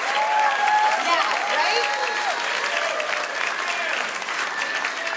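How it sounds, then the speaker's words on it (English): Audience at a Fremont College graduation ceremony applauds the graduates' families, a dense, steady wash of clapping and crowd noise lasting throughout, with voices calling out over it. "huge just round of applause for your families"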